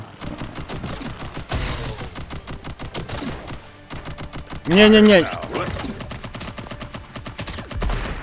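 Scattered gunfire and impacts from the Contra Operation Galuga demo clatter throughout, with a brief tonal whine in the middle and someone speaking briefly.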